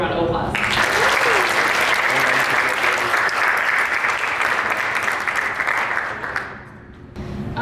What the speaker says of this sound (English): Let's give the whole group a round of applause.